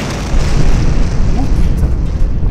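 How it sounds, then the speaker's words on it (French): A pirate base explodes: a loud, sustained roaring blast of dense rumbling noise that swells after a brief lead-in and keeps churning without pause. "On va pas mettre en avant l'explosion d'une base pirate sans un bon fond sonore"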